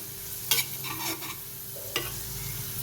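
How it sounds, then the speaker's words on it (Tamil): Pirandai (adamant creeper) sautéing in a pan, a steady low sizzle broken by two sharp scraping stirs, close and fairly quiet, no voices. "இது நல்லா கலர் மாறுற வரைக்கும் நல்லா வதங்கணும்"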